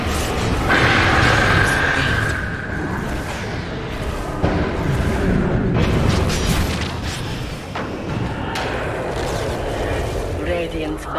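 A defensive tower crumbles under attack in Dota 2, with continuous booming explosions and crashing impacts under a busy battle din and occasional voices.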